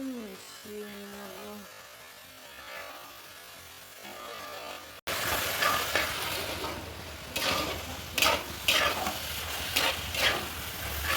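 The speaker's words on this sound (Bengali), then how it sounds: "ওটাকে বেশ ভালো করে একটু ভাজা ভাজা করে নেবো" Coconut and jaggery mixture for naru sweets being stirred and fried in a pan, a quiet scraping at first, then a louder steady sizzle with repeated stirring scrapes.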